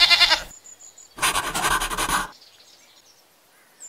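A goat bleats in the Zoo 2 Animal Park video game with two loud, wavering calls, a short one then a longer one, followed by faint game ambience.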